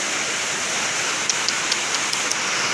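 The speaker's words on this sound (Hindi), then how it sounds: "ऊ भाई इतनी ज्यादा बारिश" Heavy rain pours down in a steady, dense hiss with no letup, and a few faint clicks rise above the wash.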